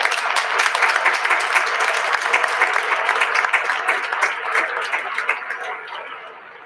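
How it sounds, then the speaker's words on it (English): A large audience at a 2021 Holy Blessing Ceremony gives a big round of applause, a dense, loud wash of clapping that holds steady and then gradually fades toward the end. "Let us give a big round of applause to welcome everyone."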